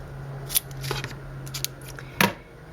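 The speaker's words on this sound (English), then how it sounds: "So I'm just going to cut 2 1/2-inch lengths off of here." Scissors cut ribbon into 2½-inch lengths at a crafting table, giving a few sharp, isolated snips spaced over a quiet background with no talking.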